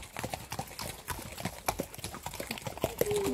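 A horse's hooves clip-clop at a quick, uneven pace on a hard surface, fairly close, with a short whinny-like call near the end.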